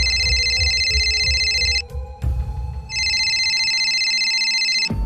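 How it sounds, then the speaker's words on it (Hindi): A phone ringing with a bright electronic ring tone in two bursts, a short silent gap between them, loud and close, with no talking. "तभी मेरे फोन की घंटी बजी।"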